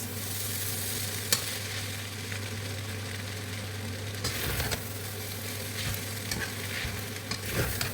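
Indomie noodles being mixed together in a pan, a steady sizzle with soft scraping and stirring strokes throughout, close and fairly quiet.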